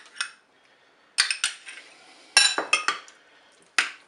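A spoon clinks and scrapes against a bowl in short separate bursts while salad with tomatoes and mayonnaise is mixed, close up with quiet pauses between strokes.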